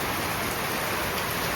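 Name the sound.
heavy rain falling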